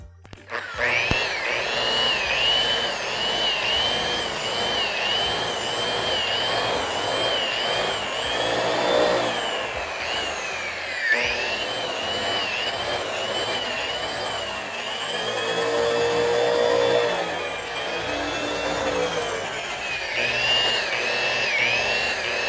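Power polisher buffing compound on a surfboard, a loud, close whirring motor whose pitch sweeps up and down as pressure changes, running continuously with a short dip partway through.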